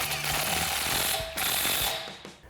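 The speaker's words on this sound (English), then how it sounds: "you can tighten your bolt down with a 17mm socket" A ratchet wrench with a 17mm socket tightens a bolt while installing a coil-over on a 2024-2026 Toyota Tacoma, giving a fast, continuous, close clicking with a metallic grind.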